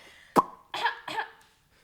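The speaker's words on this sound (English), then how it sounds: "I'm just clearing my the throat." One sharp cough followed by two rough throat-clearing rasps, close and fairly loud, then quiet.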